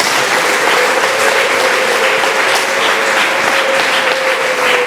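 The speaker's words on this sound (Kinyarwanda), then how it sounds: "Dukomere Imana amashyi." Church congregation at an ADEPR service applauding God, a dense, loud and continuous round of clapping from many hands with a sustained tone running beneath it.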